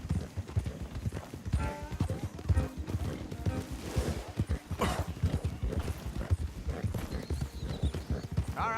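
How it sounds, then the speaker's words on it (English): Horses clopping in Red Dead Redemption II, a steady rhythm of hooves striking the ground with an occasional whinny, fairly close and mixed with background game sounds. "Don't want the horses clopping around outside the window."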